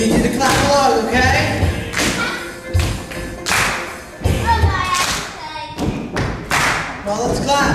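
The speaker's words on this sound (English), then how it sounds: "You need to clap along, okay?" Children clap along at a kids' Bible-time session, a run of loud, uneven claps and thumps mixed with children's voices and an adult talking over them.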